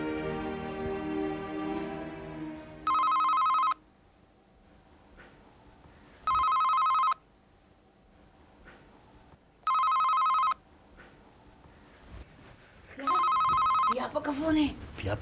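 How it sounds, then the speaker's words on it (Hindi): A telephone rings in four evenly spaced bursts, loud and close, with a voice and background sounds between the rings, in a television drama scene. "व्यापक का फोन है।"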